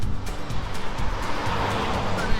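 A car passes on a busy road in Pennsylvania Amish country, steady close tire and engine noise rising and fading as it goes by.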